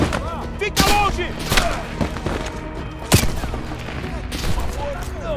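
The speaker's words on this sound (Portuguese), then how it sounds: "Eles estão atirando na gente!" Gunfire in Call of Duty Black Ops Cold War: a dense fusillade of shots and thuds, with a sharp loud burst near three seconds. Shouting voices come and go over the shooting.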